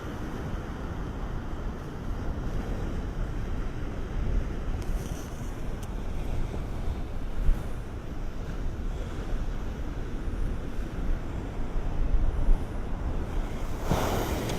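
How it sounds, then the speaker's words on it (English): Massive ocean waves break and surge continuously from the shore, with strong wind buffeting the microphone and occasional louder crashes in a steady roar. "I see some massive waves breaking out there."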